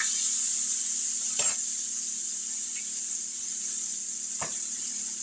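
Cube steaks fry in a pan with a steady high sizzle and hiss throughout, broken by two brief clinks of a fork against the pan. No voices.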